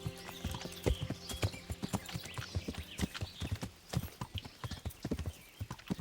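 Horse hooves in the video game Kingdom Come: Deliverance clip-clop in a quick, irregular rhythm, close and clear, with many overlapping steps and no talking.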